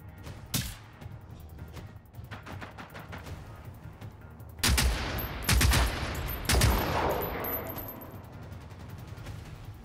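Rifle gunfire in Generation Zero: single sharp shots early on, then a cluster of loud, heavy reports, each trailing off in echo.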